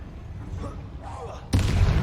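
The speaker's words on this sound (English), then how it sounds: "Bombarda glanced off of me." Bombarda spell explosion in Hogwarts Legacy combat, a sudden loud low-heavy boom bursting in after a moment of quieter game ambience.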